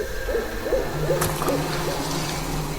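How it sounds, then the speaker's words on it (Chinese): An owl hoots in a series of about five short, evenly spaced calls over a low ambient night background, used as a sound effect in a Chinese audio drama. "树上有猫头鹰， 他在笑呢。"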